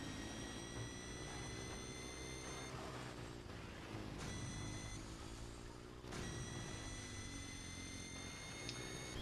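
Racing vehicle engines from MotorStorm Arctic Edge, including a dump-truck-like rig, drone steadily with a continuous whine and rumble, shifting pitch as they rev, loud and constant with no talk.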